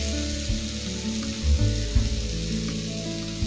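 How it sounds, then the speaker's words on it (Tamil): Boiled, cut potatoes go into hot oil in a pan for potato and pea kurma, a loud steady sizzle with a few thuds and shifts as the pieces land and settle, close and continuous, no talking. "கூட உருளைக்கிழங்கு வேக வச்சு இது போல கட் பண்ணி வச்சுருக்கேன், அதையும் சேர்த்துக்கலாம்."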